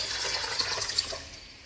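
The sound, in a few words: water being filled into a mini washing machine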